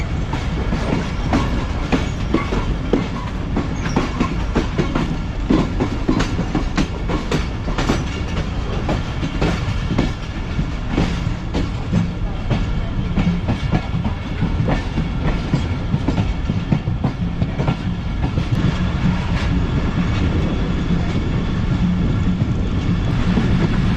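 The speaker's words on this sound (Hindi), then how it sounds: "फिलहाल आहिस्ता आहिस्ता हमारी ट्रेन निकल गई है कोटलालू रेलवे" The Rehman Baba Express creeps slowly out of Kot Lalu railway station through dense winter fog, its wheels clacking in a steady, close, continuous rhythm with no voices.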